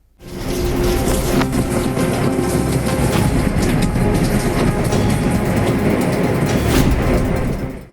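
A train rumbles and clatters loudly and steadily, a dense continuous roar of wheels on track close by.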